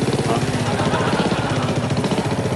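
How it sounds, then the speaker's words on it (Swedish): Motorcycle engine running on a late-night television studio set, a steady rumbling idle with rhythmic low pulses, close and loud throughout. "Det är en motorcykel det här för er."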